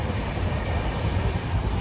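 Steady low rumble and rolling hum of a moving train heard from inside the carriage, continuous and fairly loud.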